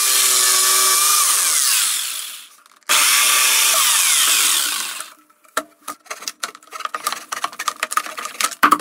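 A power drill bores holes in a metal drum, two long high-pitched grinding bursts separated by a brief pause, followed by scattered clicks, clatters and knocks of metal handling at close range.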